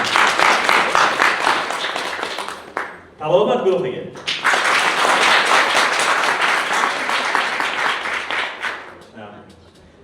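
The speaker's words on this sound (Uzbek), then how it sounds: "Tohir tabib guruhiga guldiroz qarsaklar bo'lsin" An audience at a seminar gives thunderous applause for a group, with loud, dense clapping that fills nearly all of it and breaks briefly for a short spoken phrase before swelling again and tapering off.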